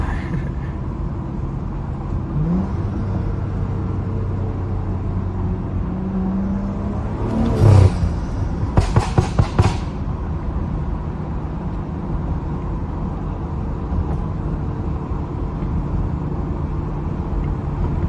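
A BMW's exhaust gives a burst of sharp crackling pops and bangs during a canyon backroad drive, several quick cracks in a cluster over a steady road and engine rumble.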